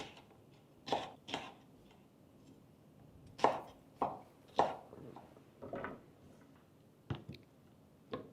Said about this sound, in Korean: 피망은 한 입 크기로 잘라주시고요.